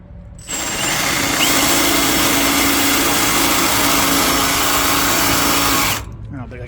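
A power drill bores through the steel frame of a Kenworth W900 truck, a loud continuous high-pitched whine holding steady for about five and a half seconds before stopping abruptly.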